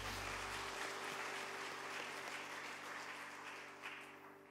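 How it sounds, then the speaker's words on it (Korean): A church congregation claps together in sustained, even applause during a Sunday service, the dense clapping filling the room and tapering slightly near the end. "우리 하나님께 영광의 박수로 찬양합시다."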